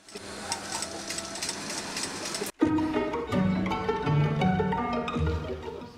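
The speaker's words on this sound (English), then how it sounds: "The horsehair ribbon is then sewn to the underskirt." A machine sews horsehair ribbon onto a tulle Dior haute couture underskirt; a soft, steady mechanical whir runs for a few seconds, breaks off briefly, then resumes with uneven low clatter.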